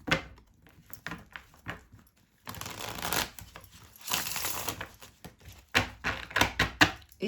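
Tarot cards shuffled by hand for a general reading, giving irregular rustling riffles and soft slaps up close, a brief pause, then longer bursts of dense shuffling noise.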